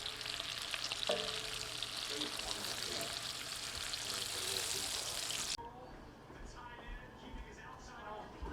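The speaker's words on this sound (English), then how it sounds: "Now we're going to take that bacon grease and dump those jalapenos right in there." Jalapenos dumped into hot bacon grease, a loud steady sizzle and crackle that drops abruptly to a quieter frying hiss partway through, with a voice talking alongside.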